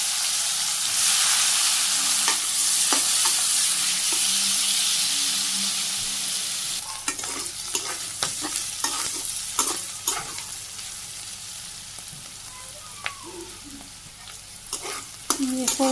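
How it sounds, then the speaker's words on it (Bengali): Bitter gourd (karela) slices sizzle and fry in hot oil in a village kitchen, a steady hiss that settles lower after a few seconds, with intermittent stirring clicks and scrapes. "তেলও গরম হয়ে গেছে, করলাগুলো দিয়ে দিই।"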